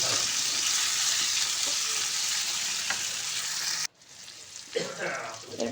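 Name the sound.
chopped tomato sizzling as it fries in a pan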